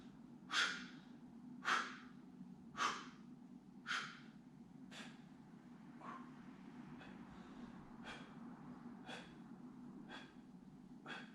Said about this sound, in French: On souffle en montant.